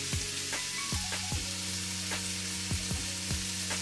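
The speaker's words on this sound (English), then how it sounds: "I give it a good mix to get the blend seasoning in" Ground beef with seasoning blend and garlic stirred in a hot pan, an even sizzle punctuated by repeated scraping strokes of a utensil against the pan in an irregular rhythm, close by.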